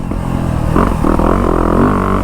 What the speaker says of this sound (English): So first ride today on the new 2025 YZ250F.